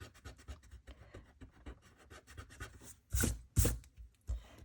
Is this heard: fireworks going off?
no